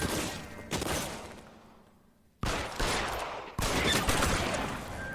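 Heavy gunfire in the video game LA Noire, a loud blast that rings out and decays, then a gap before several more booming shots land close together, with no speech over them.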